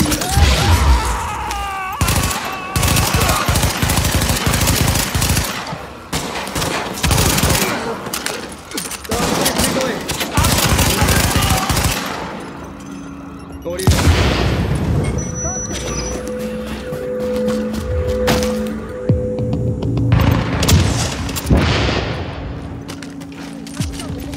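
Gunfire and explosions in the shooter game Tom Clancy's The Division, with dense bursts of automatic fire, a grenade blast and booming impacts, loud and nearly continuous, with talk over the battle.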